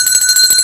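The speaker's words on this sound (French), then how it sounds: "Battez de cloche." Bell ringing steadily with sustained metallic tones, close and loud, continuous through the short moment with no voices.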